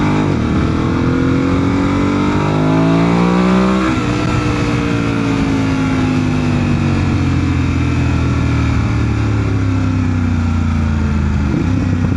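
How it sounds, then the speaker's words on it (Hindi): Several Mercedes C63 cars circle and race nearby, their engines revving loudly with rising and falling pitch sweeps, then settling into a steady, droning roar at close range. "यहाँ गाड़ियों का चक्कर लग रहा है, ये रेसिंग हो रही है।"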